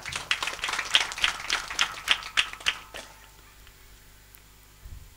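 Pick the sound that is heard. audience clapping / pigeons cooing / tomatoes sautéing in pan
audience clapping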